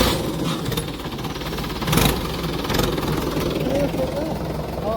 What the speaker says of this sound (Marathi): ते ट्रॅक्टर जातं तिकडे.